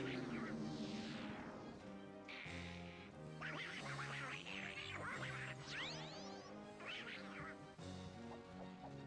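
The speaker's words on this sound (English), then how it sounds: "This thing makes Donald Duck noises." Donald Duck-style quacking voice from the Donkey Konga video game, a run of squawky quacks sitting on top of loud, busy game music for several seconds.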